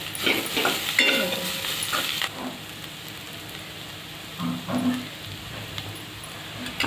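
Curry leaves and spices fry in hot oil with a loud, close crackle and stirring for the first two seconds, then the sizzle falls to a quiet hiss with a couple of brief scrapes.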